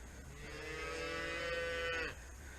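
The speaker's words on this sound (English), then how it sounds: "Synchronized mooing." Several calves on a farm moo together near feeding time, a loud, close, sustained chorus of overlapping low bellows that holds steady for about two seconds before cutting off abruptly.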